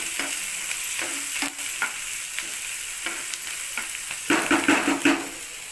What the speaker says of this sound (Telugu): ఆనియన్స్ వేసి ఆనియన్స్ బాగా ఫ్రై అవ్వాలండి.